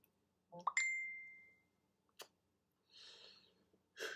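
A phone notification chime rings out once, a short bright tone that sustains and fades over about a second, followed by a few faint clicks and soft rustles in a quiet room.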